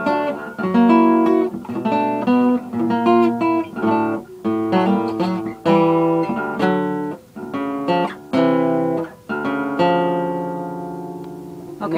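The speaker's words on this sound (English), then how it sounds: "the first part of that intro is just a couple of different major seventh chords" Acoustic guitar tuned to drop D strumming the intro of a song, a series of major seventh chords in a bouncy, rhythmic pattern with short gaps, close and clear, ending on a sustained ringing chord.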